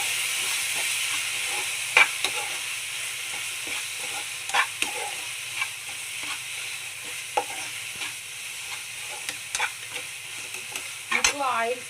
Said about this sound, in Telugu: ఇప్పుడైతే కలిపేస్తాను.